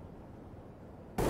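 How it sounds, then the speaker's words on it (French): A flashbang grenade goes off in Counter-Strike: Global Offensive, a sudden loud broadband blast after a second of quiet game ambience, cut off abruptly. "Flashbang."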